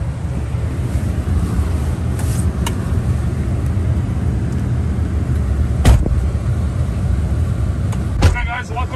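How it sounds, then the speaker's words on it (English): A 2012 Chevy Silverado fleet pickup truck on a short test drive, heard from inside as a steady low engine and road rumble with wind noise, a few faint clicks and rattles over the drone. "Let's take you on a short test drive."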